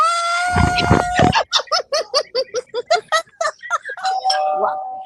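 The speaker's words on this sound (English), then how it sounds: "Give me the doorbell" A doorbell sound effect rings out during a live broadcast: a long sustained chime followed by a rapid run of bright, evenly spaced dings that fades into a closing tone, loud and clear with no talking over it.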